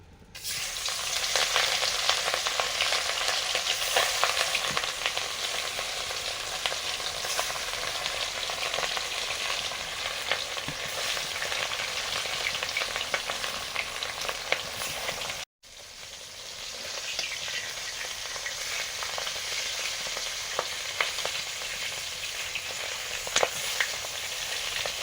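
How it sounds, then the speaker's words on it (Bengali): Large pieces of katla fish fry in mustard oil with a continuous loud, close sizzle and spatter, briefly cut off partway before resuming just as steadily. "আজকে রান্না করব কাতলা মাছ, আগে ভেজে নিই।"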